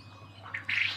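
A male quail gives a brief call: a faint rustle followed by two short, bright chirping bursts, close and alone, lasting about a second.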